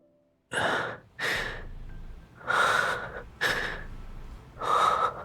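A game character in Love and Deepspace breathing in and out, five slow breaths: deep, audible inhales and exhales separated by short pauses, close and fairly quiet.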